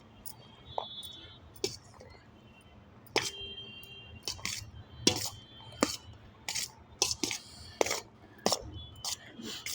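A spoon scraping and clinking against a pot while stirring capsicum, peas and carrots into millet rice, with sharp irregular taps that quicken toward the end, heard close over a low steady background.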